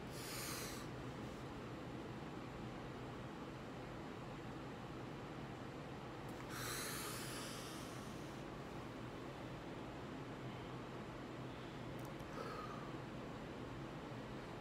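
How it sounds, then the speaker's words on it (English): Slow, deep breaths drawn in and let out during a calm morning self-care routine: three soft, airy rushes rise at spaced intervals over a steady background hiss, with no talking. "we like to breathe in and breathe out so that we can get our day started"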